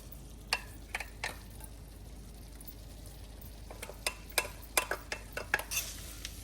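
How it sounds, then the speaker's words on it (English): Linguine is tossed and stirred into a shrimp scampi pan, with a light sizzle under scattered utensil clinks and scrapes that grow busier toward the end. "And now we're going to add the pasta in."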